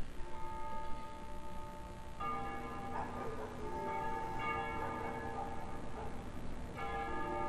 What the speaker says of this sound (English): They ring the bells here at dusk to honor the liberation of the capital.